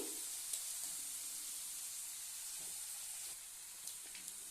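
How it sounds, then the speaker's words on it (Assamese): Two eggs fry in a pan alongside red gourd leaves, a faint continuous sizzle with occasional soft scraping as they are stirred, heard up close without any voices. "দুইটা কণী দি দিছোঁ ইয়াতে লৰাই দিম আমি ভালদৰে"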